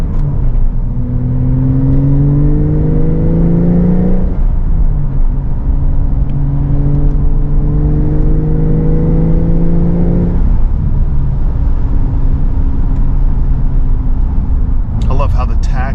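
A 2023 Porsche 911 Targa 4 GTS with a manual transmission cruises at 70 mph, its engine droning steadily with rising harmonic tones and shifts in pitch, while someone talks over the continuous road noise.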